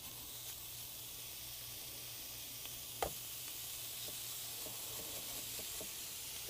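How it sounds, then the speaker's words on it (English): Food sizzles in a hot pan while chimichurri is made, producing a soft, constant hissing crackle with a few faint clicks and one sharp tap, heard up close at low volume with no speech. "I hear the sizzles."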